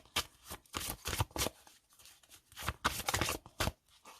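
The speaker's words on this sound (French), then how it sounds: "Alors, je ne vais pas la prendre, je vais piocher directement la carte." A tarot deck being handled as a card is drawn, with repeated close, crisp bursts of shuffling and riffling in uneven clusters separated by short pauses, no voice over it.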